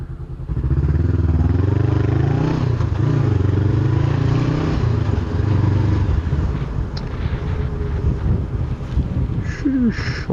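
A Honda CBR 500R on the move gives a loud, steady exhaust drone whose pitch rises and falls with the throttle, under heavy wind rush against the microphone.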